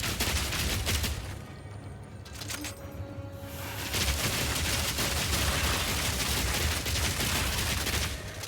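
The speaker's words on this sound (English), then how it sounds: "I have this 6 submachine gun" A submachine gun firing in the video game Path of Exile 2: sustained, rapid bursts of shots, loud and dense, with a brief lull before the firing resumes and keeps going steadily to the end.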